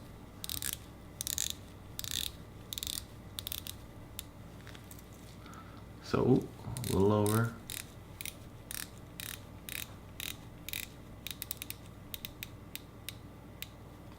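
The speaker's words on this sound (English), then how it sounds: "nice bezel action" A Nezumi Studios Baleine dive watch bezel is turned in short bursts of crisp ratcheting clicks, close and distinct, with a brief spoken remark midway.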